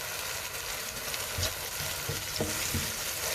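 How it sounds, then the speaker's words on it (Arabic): Minced garlic sizzles and crackles in a hot pan while being stirred, a dense steady frying hiss with a few sharper scraping stir sounds near the end, close and with no voices. "هنشوح الثوم بتاعنا، احنا دقينه."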